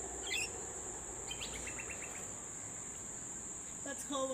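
Rainbow lorikeets on a home deck give short chirps and trilling calls in scattered bursts over a steady high insect drone and outdoor background hiss.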